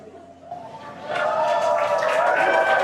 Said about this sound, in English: obviously some happy cheers as the crowd is growing outside of Mission Control Hawthorne